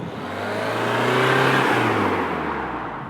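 A Peugeot 208 with a 1.5 litre 4-cylinder diesel engine drives by, a low engine drone and tyre whir swelling as it approaches close, peaking midway, then easing off as it moves away.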